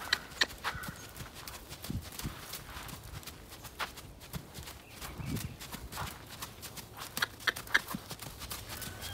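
A barefoot, naturally gaited Kentucky Mountain horse gaits at liberty, its unshod hooves striking in a steady, quick four-beat rhythm at moderate distance, with faint background noise and no talk.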